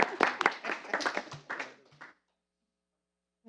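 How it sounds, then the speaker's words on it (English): A small group at a school board meeting claps briefly, a scattered patter of hands that fades out after about two seconds and leaves near silence. "Aw, he gets a clap too."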